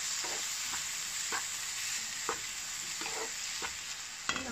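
Quiet, steady sizzling of biryani masala with added turmeric in a pan, punctuated by repeated light scraping strokes of a spoon stirring at an even pace, with no talking.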